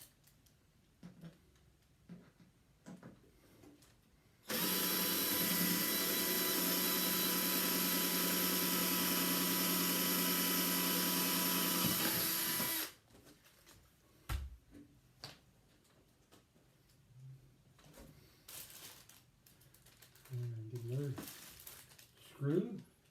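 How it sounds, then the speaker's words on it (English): A power drill boring holes while fitting a tour pak brace to a 2021 Harley-Davidson Road Glide Standard, one continuous high-pitched whine lasting about eight seconds, with clicks and handling noises before and after. "It says drill the other holes out."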